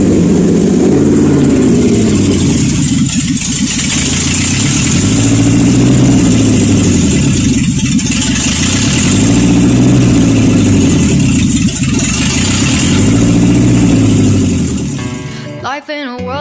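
A Honda D16 single-cam engine with P29 pistons idles loud and close in a steady, slightly lumpy rhythm that cuts off near the end.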